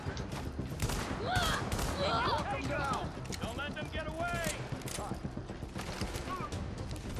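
Gunfire in Tom Clancy's The Division, a dense firefight of rapid shots and clatter that runs steadily under a voice speaking over the action.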